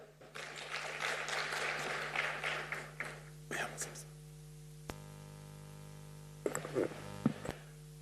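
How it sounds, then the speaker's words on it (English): Audience applause for a cooperative team at a live awards broadcast, a few seconds of crowd clapping over an electrical hum, followed by quieter room sounds and brief talk. "A round of applause for our wonderful team, Greater Kamuli Cooperative."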